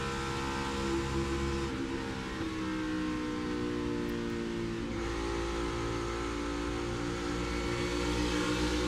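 A NASCAR Cup Series race car engine drones steadily at high revs during a race, a continuous harmonic roar with a slight pitch dip midway, no voices.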